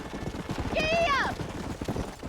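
A horse in the Red Dead Redemption video game, with soft rhythmic hoofbeats under a voice and a short whinny in the middle.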